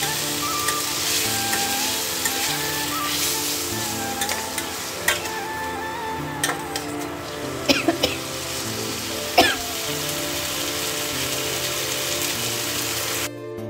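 Soybean chunks frying in a pan for Bengali soyabean kosha, a steady crackling sizzle throughout with occasional sharp clicks and taps of a utensil stirring against the pan.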